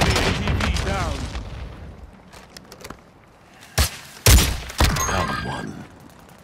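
A grenade blasts and gunfire cracks in the Call of Duty video game, with several sharp booming bursts standing out over a busy battlefield backdrop while in-game radio voices talk.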